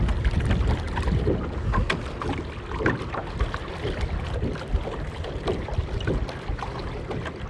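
Steady wind gusting across open water around a rowing eight during a masters regatta, a broad rushing roar with soft splashes and oar knocks throughout, fairly loud and close, no talking.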